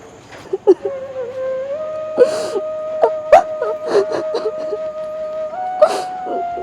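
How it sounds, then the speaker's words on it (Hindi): A person cries in broken, wavering sobs and whimpers, close by, over a steady background drone. "किसी के रोने की आवाज़ आ रही है वहाँ से।"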